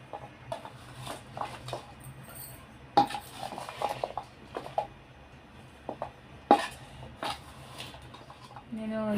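Raw mango pieces and pickle spices being mixed by hand in a metal vessel, with scattered scraping and clinking strokes, a few sharper knocks against the rim, and someone talking throughout.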